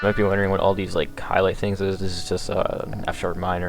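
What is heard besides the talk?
No everyday noise stands out behind the speech.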